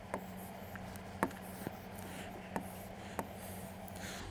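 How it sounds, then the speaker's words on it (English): A pen scratches faintly while a heart diagram is drawn for a biology lesson, with soft strokes and a few sharper taps at irregular intervals over a quiet background hum. "So let me just draw out certain things."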